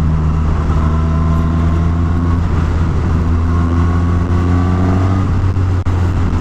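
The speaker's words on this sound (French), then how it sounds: "Ouais, elle fait un joli bruit là." Engine of a 2019 Suzuki Katana 150 hp motorcycle with an aftermarket exhaust, heard up close as a loud, steady, low droning tone that rises slightly in pitch, continuous and alone with no voices.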